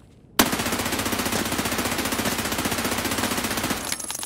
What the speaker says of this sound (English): here's point firing with the laser completely off the gun